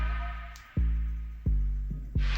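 A Soundcore Select 4 Go portable Bluetooth speaker powers on with a short chime of a few deep, booming tones rising in sequence, loud and close over a low rumble.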